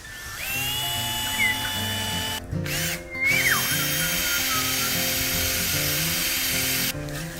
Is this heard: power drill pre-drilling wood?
yes